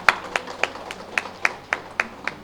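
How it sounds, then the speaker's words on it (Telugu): Audience at the opening of a pyramid meditation hall claps in unison: about nine sharp, evenly spaced claps in a steady rhythm, close and clear, with no talking. "ఒకసారి గట్టి క్లాప్స్ కొడదాం."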